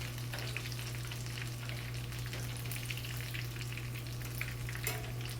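Mushrooms fry in oil with a steady, close crackle and sizzle, with a few scattered pops over a constant low electrical hum.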